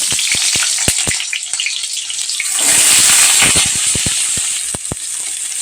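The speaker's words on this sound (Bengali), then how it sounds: "তেল গরম করতে দিয়েছি তো এক এক করে পটলগুলো দিয়ে দেবো" Pointed gourd pieces sizzle and crackle steadily in hot oil, the frying swelling louder midway, with occasional sharp clinks of a utensil against the pan.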